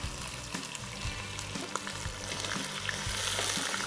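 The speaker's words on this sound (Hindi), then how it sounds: "दही डाल के इसमें हम इसको भूनेंगे।" Chicken frying in a pan with a cup of whisked yogurt, a steady close sizzle and crackle with stirring clatter throughout and no voices.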